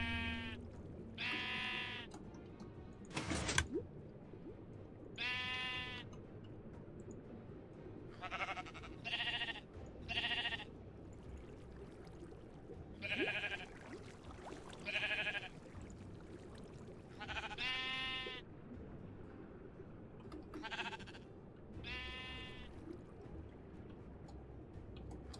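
Minecraft sheep in an underwater farm bleat in repeated short calls spread across the scene, with one sharp click or splash early on and a low ambient bed beneath, no voices over them.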